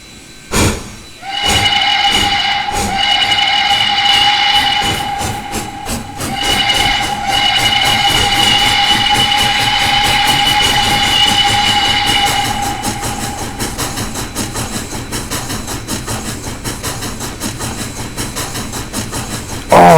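A PRR I1sa 2-10-0 steam locomotive in the Trainz 2019 video game sounds a sustained whistle over rhythmic chuffing and rail clatter, with the whistle fading out about midway while the steady running noise continues.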